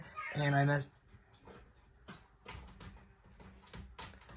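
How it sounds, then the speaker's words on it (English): A house cat meows loudly and close in a short burst at the start, followed by quieter rustling, handling noises and faint knocks while someone speaks briefly. "That's my cat."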